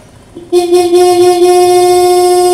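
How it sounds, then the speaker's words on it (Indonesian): A steady Yamaha Lexi scooter horn, on a scooter with a suspected weak battery, sounds from about half a second in and holds without a break to the end, loud and close, with no talk. "Coba pencet klakson."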